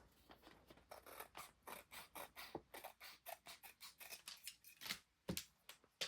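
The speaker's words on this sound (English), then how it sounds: "I am going to trim this off." Scissors snip steadily through scrap paper while a junk journal is being trimmed, giving quiet, close, rapid cuts in an irregular rhythm with short pauses.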